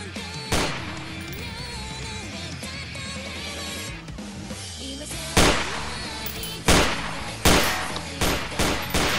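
Gunfire in the video game Garry's Mod, with a single loud shot early, then several sharp bangs in a quick uneven series near the end, over a busy background of game music and noise.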